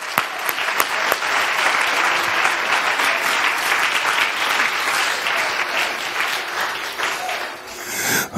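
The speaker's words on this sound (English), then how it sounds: "Clap your hands unto the Lord." A church congregation claps hands together during a Pentecost Sunday service, a loud, dense, steady wall of applause that carries on for the whole stretch before thinning slightly at the end.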